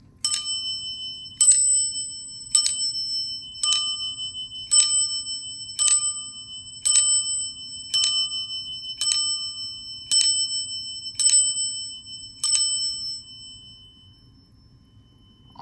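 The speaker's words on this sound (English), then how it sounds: "Finally rang in my birthday with this GAL elevator bell right here" A GAL elevator bell rings twelve times at an even pace of about one strike per second. Each clear metallic ding rings out bright and close before fading, over a faint low hum.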